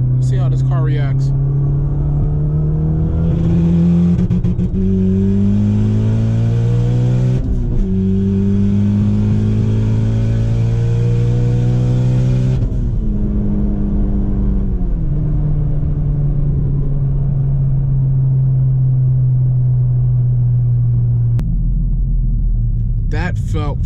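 A turbocharged ninth-generation Honda Civic Si on a night run accelerates hard, its loud engine tone climbing steadily through several gears with brief drops at each shift, heard close from inside the car.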